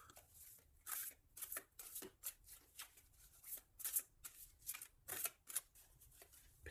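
Tarot cards are shuffled and cut close to the microphone, a rapid run of papery riffles and soft slaps in uneven bursts, quiet and without talking.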